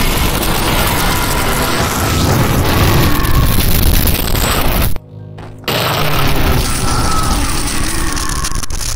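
A Minecraft ghast fireball explosion, heavily bass boosted, comes through as a loud, distorted, continuous roar that fills the clip, broken by one brief near-silent dropout partway through.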